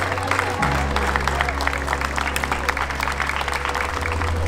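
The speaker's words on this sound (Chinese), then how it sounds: "邀请大家给弟弟一个掌声好吗？" Wedding guests applaud the bride's younger brother with a steady wash of clapping that runs throughout, mixed with background music and a low hum.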